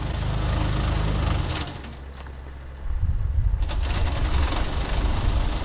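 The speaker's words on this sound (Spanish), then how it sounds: "El ruido que escuchamos de fondo es el que proyecta un tractor" A heavy tractor engine powering an olive-harvesting umbrella rumbles steadily in the background, dropping lower briefly in the middle before the loud, throaty running returns.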